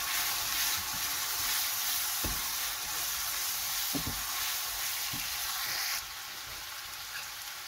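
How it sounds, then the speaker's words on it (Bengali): Spices with salt and turmeric fry in a pan with a loud, even sizzle, broken by a few sharp knocks and scrapes of stirring. The hiss drops noticeably near the end. "এখন মশলাটা একটু কষিয়ে নিব।"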